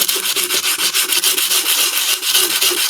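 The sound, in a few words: hand sanding wood with sandpaper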